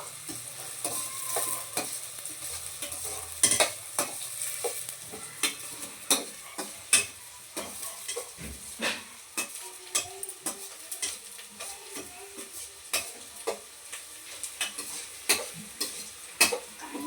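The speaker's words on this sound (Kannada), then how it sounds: "ಟೊಮೆಟೊ ಹಾಕ್ಬೇಕು ಮಿಕ್ಸ್ ಮಾಡಿ" Chopped tomatoes are stirred in a frying pan, a soft sizzle running under repeated sharp scrapes and taps of a spoon against the pan, fairly close and steady, with no talk.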